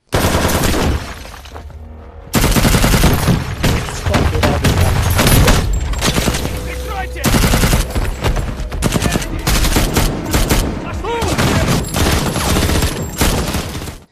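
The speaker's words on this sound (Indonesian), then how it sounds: "tembakan terdengar dari berbagai arah" Dense, loud gunfire rattles almost nonstop: rapid bursts and single shots overlap with booming impacts, broken by a brief lull early on.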